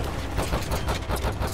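Rapid gunfire in Call of Duty: Jackal Assault VR, a continuous dense fusillade of overlapping shots, loud and unbroken, with no voices over it.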